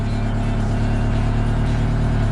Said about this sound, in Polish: No, widzicie, jak dodam lekko gazu, to...